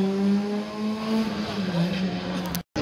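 F2 class race car on a slalom course at Biesheim, its engine holding a steady, close drone with a rising pitch and a brief cut near the end, while a voice talks over it.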